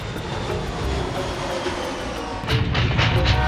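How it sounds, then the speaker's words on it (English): Airplane engine noise, a steady jet-like roar that swells slightly louder toward the end, with no talking. "Plane."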